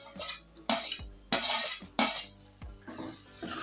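Roasted okra tipped into a pan of yogurt curry for Kathiyawadi dahi bhindi, with several loud clattering scrapes and stirring knocks of a spoon against the pan, spaced about every half second and close by, and no talk.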